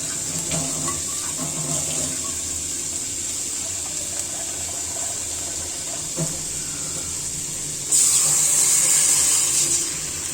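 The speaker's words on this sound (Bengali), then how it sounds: "আমি এখানে পানি দিয়ে দিব" Water is poured into a pan of frying lentils with spices: a steady sizzle with a few scrapes, then a sudden louder rush of hissing as the liquid hits the hot pan near the end.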